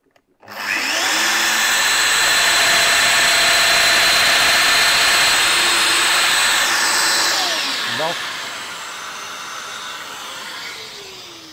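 A Festool Domino XL 700 joiner cuts a mortise in timber with a loud, steady high-pitched motor whine and cutting roar that lasts about seven seconds, then winds down with a falling pitch.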